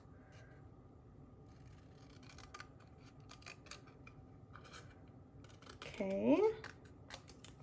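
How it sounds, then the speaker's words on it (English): Scissors snip through a stamped paper piece for a handmade card: a brief, close burst of cutting rises near the end over a quiet room hush. "And we'll just go ahead and cut this out."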